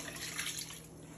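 Water is poured into a pot of red beans for a Dominican-style bean soup, a brief, steady, close rushing splash with no talk.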